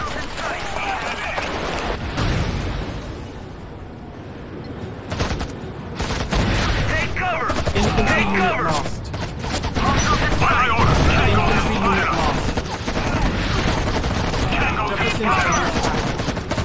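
Enemy AK-74 rifle and RPG-7 fire in Act of War, sustained automatic gunfire with heavier booms and clatter throughout, loud and continuous, with speech over the battle.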